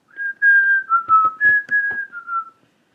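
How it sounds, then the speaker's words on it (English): A person whistles the melody of America the Beautiful, a doorman with a chipped front tooth, clear sustained notes in a smooth phrase lasting nearly three seconds, close and alone. "whistling"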